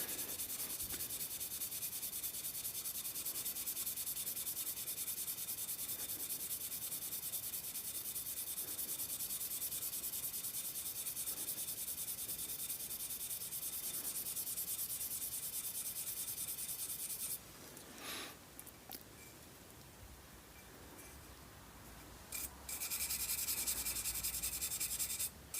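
Brass brush or pad scrubbing rust off the cylinder of a Stoeger X20 S air rifle during a rebuild, a steady close rhythmic rubbing for most of the stretch, then briefer scuffs and handling before rubbing resumes at the end.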